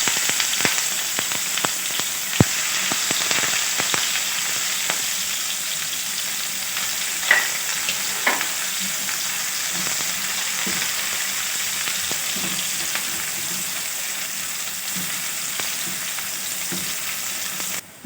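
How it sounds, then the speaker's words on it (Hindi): Onions fry with fenugreek seeds in hot oil for a pakora curry, sounding as a steady, close, loud sizzle with occasional stirring clicks and pops throughout, and no one talks. "जैसे ही खुशबू आने लगे तो इसमें प्याज डाल दें।"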